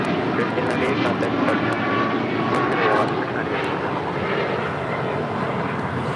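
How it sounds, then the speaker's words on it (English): An Alaska Airlines Boeing 737 MAX 9 takes off from LAX, a broad, sustained roar of jet engines at moderate distance that swells slightly and then holds, with faint voices underneath. "This is Alaska Airlines 1398, taking off to Mazatlan on a MAX 9."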